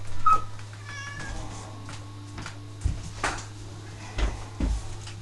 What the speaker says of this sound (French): il y a mon chat qui miaule